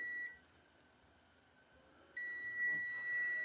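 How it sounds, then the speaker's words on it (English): A Testman smart meter gives its continuity beep: a steady electronic tone sounds briefly, drops away, then returns and holds as the probes touch, clear and close with no talk. "it makes that noise, and that tells me there's continuity"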